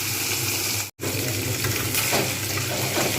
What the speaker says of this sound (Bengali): তেল গরম হয়ে গেছে, এবার আমি একটা একটা করে মাছ ছেড়ে দেবো।